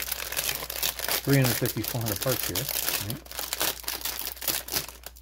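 Plastic bags holding the parts of a Zvezda 1/48 Su-25 model kit crinkle and crunch as they are opened up close, a steady rustle running through the whole stretch while someone talks over it.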